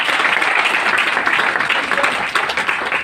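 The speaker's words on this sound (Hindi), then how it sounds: "मैं चाहता हूँ मेरे दोनों मेंटर के लिए जोरदार तालियां होनी चाहिए" Loud, sustained audience applause for two mentors at a success seminar, a dense wash of many hands clapping together with no pause for the full stretch.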